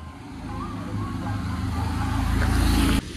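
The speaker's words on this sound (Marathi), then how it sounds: "आणि या इलेक्ट्रिक बसेस चाललेत" Electric buses driving along the Tirupati to Tirumala road, a steady low engine rumble that swells gradually as a vehicle draws near and passes close, then cuts off abruptly near the end.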